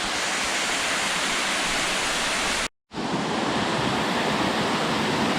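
A mountain waterfall along the Beaver Brook trail on Moosilauke rushes in a loud, unbroken roar, interrupted by a brief near-silent gap halfway before the torrent resumes at full strength.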